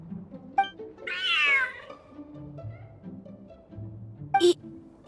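A cat in Genshin Impact meows in a drawn-out, rising call near the start, with short game chimes before and after over soft background music; no one speaks.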